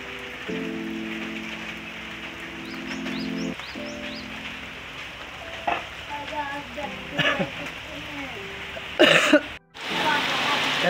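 Heavy rain pouring down in Assam, a steady hiss of falling water that runs through the whole stretch, with a voice and a few other tonal sounds rising over it.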